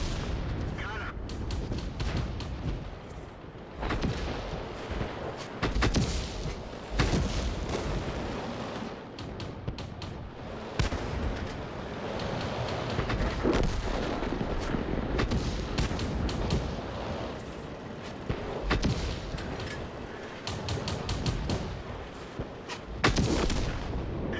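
Tank cannons firing in the World of Tanks video game, repeated heavy booming shots with sharp onsets spread through a dense, loud battle din, with game sounds throughout.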